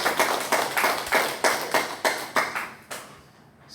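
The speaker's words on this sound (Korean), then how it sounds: "우리 하나님께 모든 영광을 박수로 올려드리겠습니다" A church congregation at a Sunday worship service claps in unison, a clear, steady rhythm of sharp claps about twice per second that stops abruptly shortly before the end.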